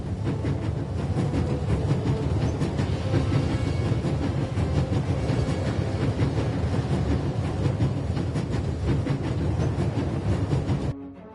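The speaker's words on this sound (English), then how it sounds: "There's nothing quite like traveling on a train." Train travel in The Raven Remastered, a steady, loud rumble of a railway carriage with dense rhythmic clatter of wheels on track, continuing unbroken for about eleven seconds before cutting off abruptly, with no talking over it.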